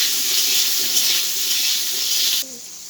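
Potatoes fry with salt and turmeric in a hot pan, giving a steady, bright sizzle that drops off sharply just before the end.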